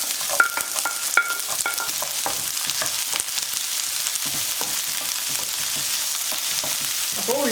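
Sliced shallots and dried red chillies fry in hot oil for a Kerala-style beans thoran, with a steady, close sizzle broken by a few light stirring clicks and no talking.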